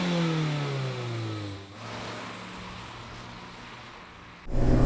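Two sports cars, a Subaru BRZ and a Mazda MX-5, pull hard in second gear, engine note climbing steadily then dropping at a shift before a fresh loud surge near the end, heard close and alone without talk.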